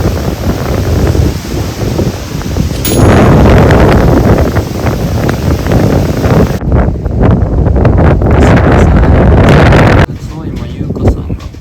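Strong wind buffets the microphone at a Maldives water villa over the sea, a loud, continuous roaring rush that gusts harder partway through, with voices faintly mixed in beneath it.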